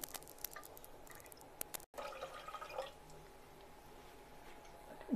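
Starch (maya) liquid poured into a cooking pan for stiffening clothes, heard as quiet dripping and splashing with a brief burst of liquid noise, faint and close.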